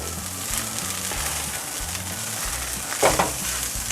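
Hamburger meat browning in a hot pan, a steady close sizzle and frying crackle with scraping stir strokes and a sharper clatter near the end, no talk.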